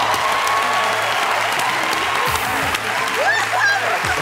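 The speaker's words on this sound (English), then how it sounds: "I like the way your daughter's applauding." Steady applause fills a television game-show studio audience, a daughter among those clapping, continuous and dense from start to finish with some crowd voices mixed in.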